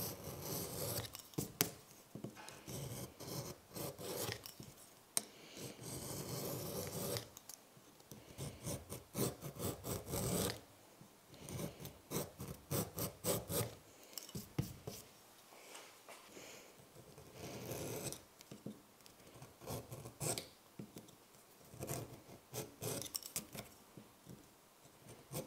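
An edge tool skives leather in quick, repeated scraping strokes. The rasping passes come close and fairly soft, in uneven bursts with brief pauses between them.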